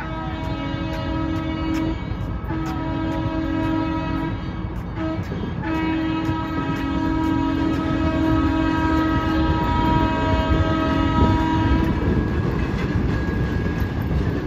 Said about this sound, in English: Such a loud horn.